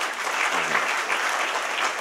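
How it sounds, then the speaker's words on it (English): Steady audience applause at a farm bill speaking event, many hands clapping together in a sustained, even wash at moderate distance with no pauses. "just clap"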